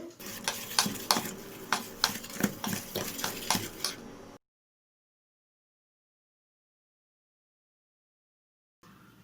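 Homemade cake cream is beaten by hand in a bowl without an electric beater or whisk, giving quick rhythmic scraping strokes about four seconds long, close and steady, then cut off by silence.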